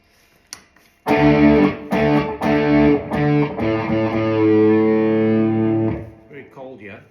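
Les Paul or PRS electric guitar through heavy mega distortion: a few sharp strummed chords, then a long sustained saturated chord that rings out loud and close before fading, with a faint voice near the end.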